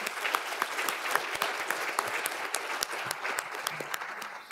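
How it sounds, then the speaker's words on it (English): An indoor audience at a youth sustainability event gives a round of applause, dense, steady hand clapping at moderate distance that carries on throughout without letting up. "can we just give ourselves a round of applause"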